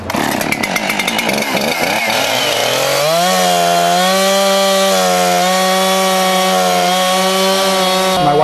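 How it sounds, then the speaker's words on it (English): Chainsaws carve a log, the engine loud and close, first revving in choppy bursts and then settling into a sustained, slightly wavering high whine as the blade works through the wood. "The sound of chainsaws has replaced the sound of the seashore and the birds."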